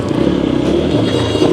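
Auto-rickshaws and motorbikes crowd a local road, producing a loud, close engine drone with a rapid rattling pulse and a steady rumble that holds throughout.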